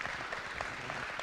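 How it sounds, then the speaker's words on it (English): Attendees at a community COVID town hall meeting applaud, a brief, fairly quiet patch of steady clapping in a room. "please give yourself a round of applause for such a great town hall meeting"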